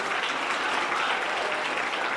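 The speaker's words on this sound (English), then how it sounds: "Give these guys a round of applause." An audience at a grades 4–6 school awards ceremony gives the winners a round of applause: thick, continuous clapping from a roomful of people, close and even throughout the brief moment.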